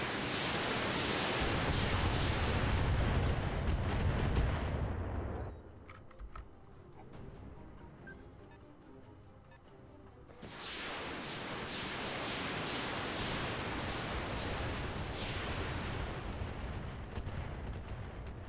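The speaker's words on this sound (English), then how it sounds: "thank goodness for indirect fire" Artillery indirect fire in the Roguetech BattleTech video game booms out as a long, loud, dense roar. It breaks off into a quieter lull, then surges back at full strength.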